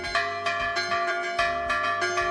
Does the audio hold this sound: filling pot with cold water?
no